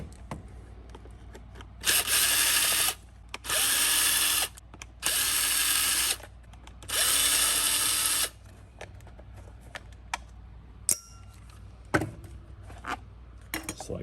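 Power tool, likely a cordless driver, running in four short, fairly loud bursts while removing the front cover of a slow-turning fan, followed by quieter clicks and handling noises.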